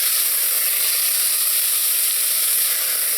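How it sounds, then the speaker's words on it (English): Washed wild rice drops into a hot pot for pilaf and is stirred, making a loud, dense, continuous sizzle and hiss with no talking. "now I'm going to add in the wild rice to the pot, and I already washed the rice. Just give it a mix"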